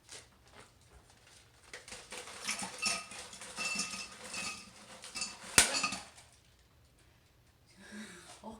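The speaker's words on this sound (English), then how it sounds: "Let's add ice and get to stirring." Ice cubes clinking and rattling in a glass as an Old Fashioned cocktail is stirred, quiet and close, with irregular bursts of tapping and one sharper knock.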